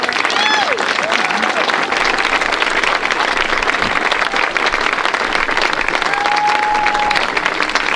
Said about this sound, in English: So a really warm round of applause.